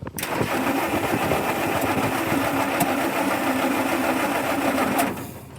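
A 1946 Jeep engine, just fitted with a new condenser and fuel pump fuse, cranks briefly and catches, then runs at a loud, steady, rapid chugging idle for several seconds before cutting off abruptly.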